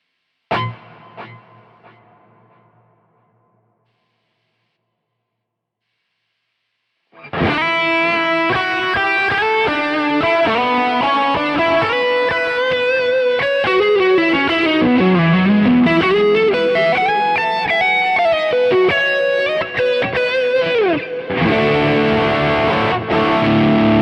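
After a short strum and a pause, a distorted electric guitar through a Quad Cortex plays a sustained lead line with bends and a thick, doubled octave-effect tone, loud and close.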